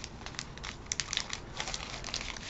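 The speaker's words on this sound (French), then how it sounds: "Ils ont des plastiques qui font un bruit infernal en vidéo." Close plastic bag crinkling and crackling in short irregular bursts, quiet and alone, like a bag being handled and opened.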